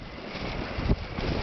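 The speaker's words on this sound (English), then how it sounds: "You can see it's quite windy here." Wind buffets the microphone at night in a steady rush of low rumble beside a titanium wood stove, with a brief stronger gust near the end.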